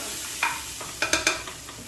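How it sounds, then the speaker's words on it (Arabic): Tomato paste, Maggi and cumin are stirred with fried onions in a hot pan, with a constant low sizzle under a few quick spoon scrapes and taps, close and fairly soft. "قلبه شوية مع الصلصة والبصل"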